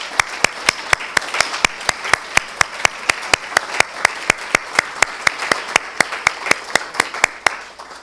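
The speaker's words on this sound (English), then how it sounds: "can you guys please stand up and get a round of applause again?" An audience at a grand opening ceremony claps in a steady, evenly spaced rhythm, with loud crisp claps repeating throughout over a low murmur.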